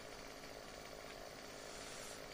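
Tree cutting with a chainsaw in the video game Farming Simulator 17, a faint, steady buzzing drone that holds evenly throughout with no voices over it.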